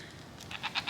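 A goat bleating in a barn, three short nasal bleats in quick succession near the end, fairly faint against low background noise.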